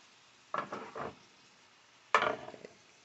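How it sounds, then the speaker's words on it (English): A pot of food with dandelion greens being stirred: two short bursts of scraping, clinking utensil strokes against the pot, close by, separated by a quiet pause. "Try to stir this up."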